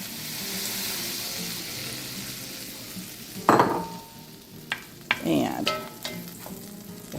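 Flour stirred into melted fat in a pan for a gravy roux, a soft ongoing sizzle broken by a few scraping stirs and clinks near the end, with a brief spoken word.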